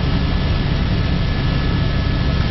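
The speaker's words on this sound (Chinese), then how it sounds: "这个直升机它会降落在冰河之上" A helicopter flying from Juneau toward Mendenhall Glacier in Alaska, heard from inside as a loud, continuous low roar of engine and rotor that stays constant.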